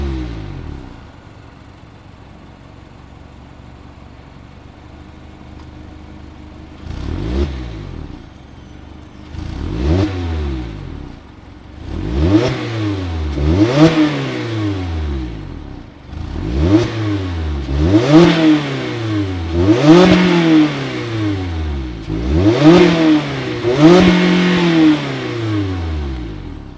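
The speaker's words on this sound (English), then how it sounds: "let's fire up this 2-liter naturally aspirated 4-cylinder and hear how she sounds" A 2025 Mazda MX-5 Miata Grand Touring's 2-liter naturally aspirated Skyactiv-G four-cylinder idles, then revs repeatedly in sharp blips that rise and fall, growing louder with each throttle stab, heard close with no talking.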